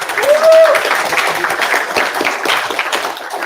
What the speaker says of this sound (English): round of applause for Niels